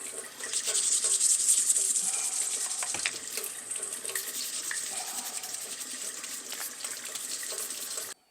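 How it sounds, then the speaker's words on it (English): Steady rush of running tap water into a sink while a freshly ground handmade knife blade is rinsed under it, with faint rubbing and scraping, close and continuous, no talking. "I'm gonna go wash the blade real quick"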